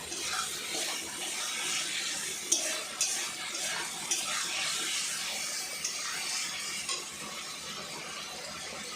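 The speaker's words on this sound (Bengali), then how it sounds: "তার ঘুগনিটা দিয়ে দিচ্ছি, মটর আর ছোলা দিয়ে একসাথে করছি।" Ghugni of peas and chickpeas with potato being stirred in a pan, a soft, fairly faint wet sizzle with occasional light spatula clinks and scrapes throughout.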